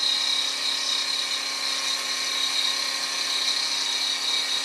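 A milling cutter spins while squaring a metal block, giving a loud, steady high-pitched whine close by, continuous and unbroken with no voices.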